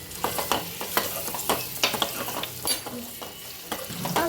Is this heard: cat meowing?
no